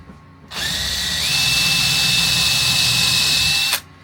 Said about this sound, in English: then we'll get on and drill.